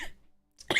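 A single short cough after a quiet pause, close and abrupt, with a faint throat sound just before it.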